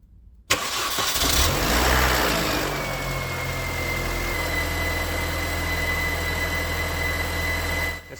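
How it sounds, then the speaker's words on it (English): A Mini Cooper S R53 engine cranks and catches after a short pause, surging loudly before settling into a steady idle with a faint high whine over it. "Now the engine can be started."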